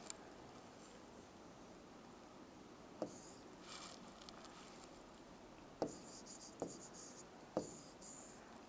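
A pen or chalk writes out a maths answer in a quiet setting, with a few short sharp taps and scratches spread through a faint, steady background and no talking.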